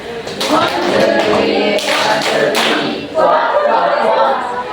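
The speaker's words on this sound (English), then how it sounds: "let's give Mr. Kareem a quick applause" Applause for Mr. Kareem at a teacher training session on grammar teaching: a dense, steady patter of many hands clapping for nearly five seconds, with voices mixed in underneath.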